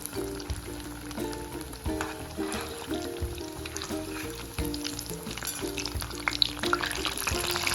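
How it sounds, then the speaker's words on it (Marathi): Oil sizzles and crackles steadily as potatoes fry, with occasional tonal clinks and stirring sounds over a constant hiss. "आपण गोल्डन कलर येईपर्यंत तळणार आहोत बटाटे"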